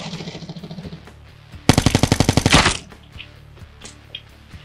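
Gunfire in the mobile shooter Call of Duty Mobile: a short, loud, rapid automatic burst of roughly a dozen shots, preceded and followed by softer rhythmic firing and scattered game sounds.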